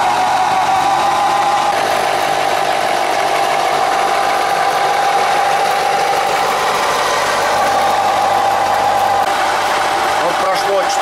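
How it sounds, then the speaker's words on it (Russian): A small 12-24V compressor fills a PCP air rifle reservoir with a loud, steady mechanical drone and vibrating hum, running continuously and close by the whole time. "единственной кнопкой на компрессоре мы его включаем"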